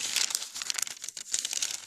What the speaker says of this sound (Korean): 저는 이 종이는 빵을 만드는 때 쓰는 베이킹 페이퍼예요.